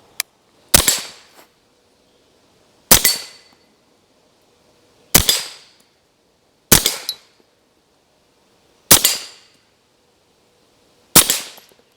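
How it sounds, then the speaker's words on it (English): Six loud, sharp rifle shots are fired from a rifle on a tripod at an outdoor range, spaced about two seconds apart, each a close crack followed by a brief echoing tail, with silence between. "I'm going to go ahead and throw a few confirmation shots here."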